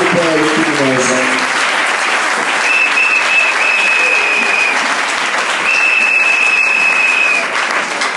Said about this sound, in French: Vous pouvez vous asseoir et applaudir la parole du Seigneur.